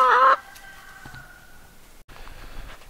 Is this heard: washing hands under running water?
no